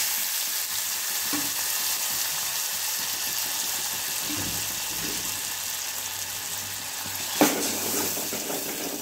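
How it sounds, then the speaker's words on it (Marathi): Cumin seeds and plenty of garlic fry in hot oil as a tempering for dal with turmeric, giving a steady close sizzle and crackle, with a brief clink of a utensil near the end. "जिरं फुललं की मस्त घालूया यामध्ये खूप सारा लसूण"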